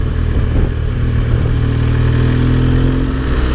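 A BMW R1200GS motorcycle rides along a northern England road, its mid-pitched engine droning steadily and loudly with slight rising revs and wind rush, no voices.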